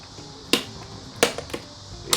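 An Infiniti M45 side mirror with a faulty motor gives four sharp, dry clicks at irregular intervals, close and fairly quiet over a faint background hiss.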